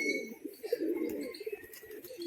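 Pigeons cooing at a Bengali pigeon keeper's sale, among them a hen, with soft murmuring coos and faint chirps running steadily over low background noise.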